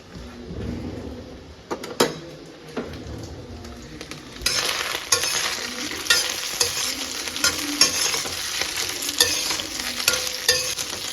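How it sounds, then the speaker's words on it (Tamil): Kasuri methi is stirred into a snack mixture frying in oil, giving a loud close sizzle that grows fuller partway through, with repeated scraping strokes and a few knocks. "அவ்வளோதான் போட்டு நல்லா கிளறி கொடுத்துடலாம்"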